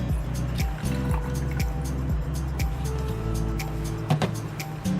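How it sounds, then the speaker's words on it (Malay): Water being poured into a Lunavie travel bottle warmer, with splashing and trickling over a steady low hum and a series of light knocks. "masukkan air sebanyak 3 oz juga ke dalam botol warmer ni"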